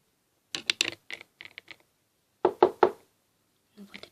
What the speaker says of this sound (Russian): Ну вот опять стучит.